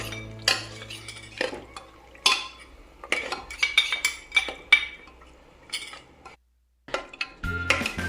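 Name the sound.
stirring garlic-ginger paste into mutton in pressure cooker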